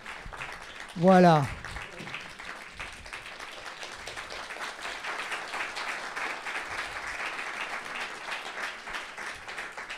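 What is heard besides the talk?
audience applauding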